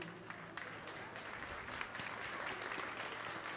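An audience at the medal ceremony of the World Rowing Under 19 Championships in Plovdiv applauds steadily, soft and somewhat distant, with a few sharper individual claps standing out.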